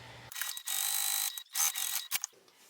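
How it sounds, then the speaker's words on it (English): Sewing machine stitching a straight seam on bag fabric, loud close mechanical whirring in bursts with short pauses between runs. "I'm then going to sew down the straight edge using the seam allowance given in the pattern."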